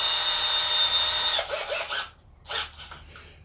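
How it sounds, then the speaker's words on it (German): Power drill driving a screw into glued wood while building a crosscut fence for a table saw: a steady close whine for over a second, then several short bursts as the screw seats. "Jetzt kriegt er eine Schraube verpasst."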